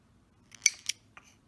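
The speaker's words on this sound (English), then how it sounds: "Just take your scissors," Scissors snip through a short length of yarn for a crocheted owl, giving two quick close metallic cuts followed by a faint click, with no talking.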